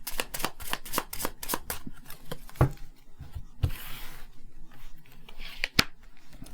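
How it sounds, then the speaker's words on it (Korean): Lenormand cards shuffled by hand up close, a run of rapid crisp riffling snaps followed by slower sliding and a few sharp taps. "제가 레노먼드 카드 2장으로 뽑아보도록 할게요"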